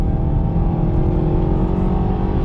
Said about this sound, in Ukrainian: Стартуємо від нуля до сотні, рухаємося ми в горочку і в поворот.